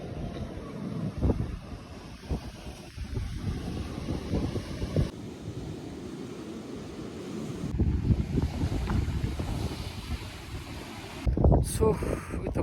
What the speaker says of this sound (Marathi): मस्त आहे, पण मस्त वारा